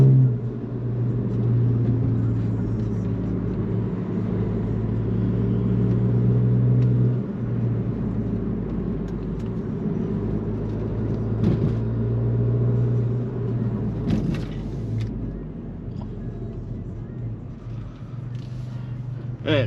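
A Volkswagen MK7 GTI driving in traffic, with a steady low engine and road rumble heard from inside the car throughout, some faint knocks and brief mid-range noises over it.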